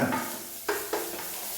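Whole peppercorns stirred in a hot pan, a soft steady sizzle with two sharp scraping strokes of the spoon against the metal, close and fairly quiet.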